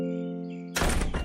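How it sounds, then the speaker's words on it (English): A door in a narrated bedtime story shut with a bang, a single sudden loud thud after a sustained musical tone, close and heavy. "closed his door with a bang"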